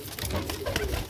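Sialkoti black-faced pigeons, a bred pair with young, give low, steady cooing that carries through the short stretch, close by and fairly loud, with a faint voice talking underneath.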